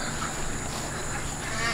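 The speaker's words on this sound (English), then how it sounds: "We're out here hanging out with the ducks." Ducks and geese honk and quack steadily outdoors, a continuous close flock chatter over a broad noisy background.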